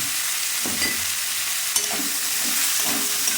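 Ginger-garlic paste being stirred into a frying rui fish curry with potatoes and bori, a steady sizzle with a few soft scraping strokes of the spoon, close and moderately loud, no voices.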